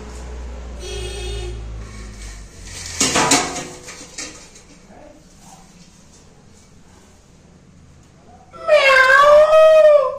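Metal plates and utensils crash and clatter as a cat knocks them over in a home, a sharp burst mid-clip after low rumble, followed by quiet and then loud, wavering cat meows at the end.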